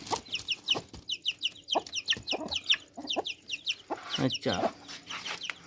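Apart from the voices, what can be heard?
chickens clucking, hen and chicks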